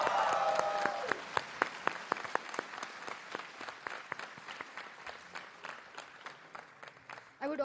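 Audience applause at a university convocation ceremony at IIT Hyderabad, a broad wash of clapping that thins into scattered, distinct claps as it fades, with a voice briefly at the start.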